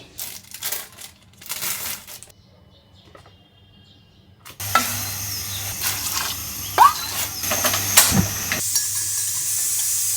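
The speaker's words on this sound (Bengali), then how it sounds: "সালামি ভেজে ফেললাম" Slices of salami fry in a home kitchen pan, starting with quiet clatter and shuffling, then a loud steady sizzle with occasional sharp pops and scraping, close and without speech.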